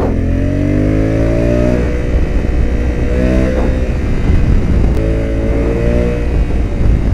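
A 2021 Honda Africa Twin motorcycle rides on a race track, its engine loud and close, rising in pitch as it accelerates and dropping back between gear changes.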